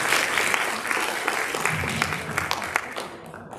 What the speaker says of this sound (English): I just wanted to give her an acknowledgement and a round of applause.